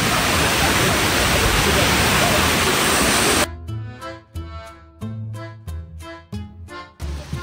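A waterfall seen from a viewing deck pours as a loud, steady roar for about three seconds, then cuts to someone speaking over quieter surroundings.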